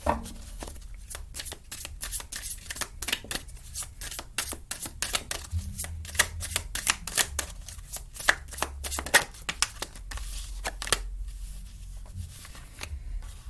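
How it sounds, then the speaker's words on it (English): Rapid, crisp riffling and slapping of a tarot card deck being shuffled, close up, in repeated bursts with brief pauses between them. "I do shuffle these in between"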